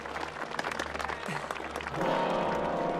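Dense cheering and applause from a crowd for Glinda in the movie Wicked, a steady wash of clapping that swells louder near the end with a held tone rising underneath.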